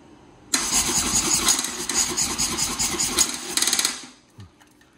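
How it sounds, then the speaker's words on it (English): A 1996 Buell S1 Lightning motorcycle engine cranks hard with the starter for about three and a half seconds, loud and close, a few sharp pops from the intake near the end before it stops without catching. "Got a couple pops out the intake"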